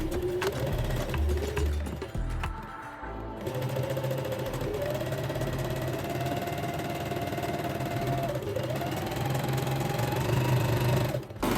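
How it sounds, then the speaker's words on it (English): Sewing machine stitching the center back seam of a dress, running steadily and close for the whole stretch with a rapid mechanical hum, one brief pause near the start and a slight change in pace later. "Sew the center back seam on the back pieces."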